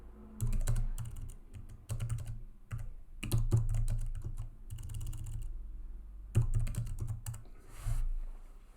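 Clicky bursts of typing on a computer keyboard during a live broadcast, close and dry, with quick runs of keystrokes broken by short pauses and a few heavier thumps.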